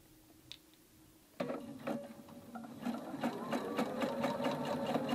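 A sewing machine stitches an elastic loop onto a pleated fabric face mask, starting after a brief quiet with a close, steady mechanical whir and rapid needle ticking.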